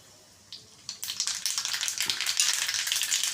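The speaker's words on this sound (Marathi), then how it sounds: "आता त्यामध्ये आपण तेल घालूया एक चमच राय" Mustard seeds hit hot oil for tempering a khandvi topping: a sudden close hiss breaks into dense, rapid crackling and popping that keeps building.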